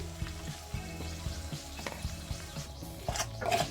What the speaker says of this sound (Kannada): ಒಂದು ಅರ್ಧ ನಿಮಿಷ ಫ್ರೈ ಮಾಡ್ಕೊಳ್ಳಿ.